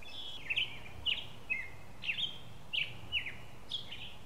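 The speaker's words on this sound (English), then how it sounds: "is teeming with birds throughout lush wetland and woodland areas" Birds singing in a lush wetland and woodland nature reserve on Whidbey Island, Washington: a repeated series of bright, clear chirps at regular intervals over a quiet background, moderately near.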